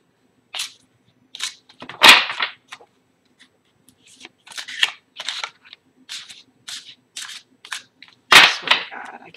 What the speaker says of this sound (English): I swear to God, I cannot shuffle today.